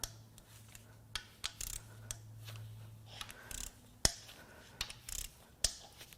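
A ratchet loosens the cam cap bolts on a 2015 Volvo XC60 T5 2.0-litre engine, giving quiet clicking ratchet turns broken by sharp metallic snaps as bolts break free, close and sparse, with no talking.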